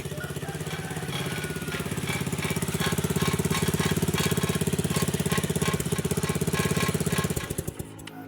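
A Yamaha RX King two-stroke motorcycle engine with a CDI ignition fault runs at a steady, rapid, rattling idle up close, refusing to shut off, then sputters and cuts out near the end.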